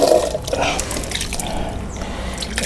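Water is added to a homemade EM-4 fermentation mix made from household waste, a close splashing pour followed by a softer trickle and drips.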